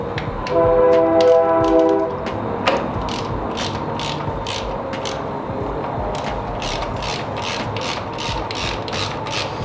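Ratchet clicking as an 8mm Allen bolt is loosened on an Indian Scout Bobber motorcycle, a burst of rapid close pawl clicks followed by a steady series of separate strokes over a low background hum.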